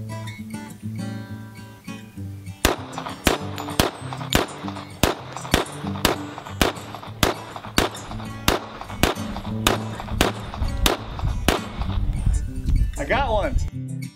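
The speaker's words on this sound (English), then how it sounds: "I'm gonna shoot a 1911 while at the same time shooting a 1911" Rapid series of sharp, loud gunshots from two 1911 pistols fired together, about twenty evenly spaced reports cracking out over a background of music, followed by a brief burst of talking.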